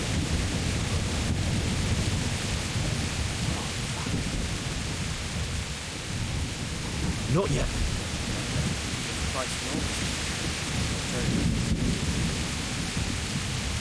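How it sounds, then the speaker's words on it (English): Heavy rain pours steadily in the medieval game Kingdom Come: Deliverance, with low rumbling thunder rolling underneath and a brief spoken voice; the downpour stays dense and constant. "And it's raining, damn."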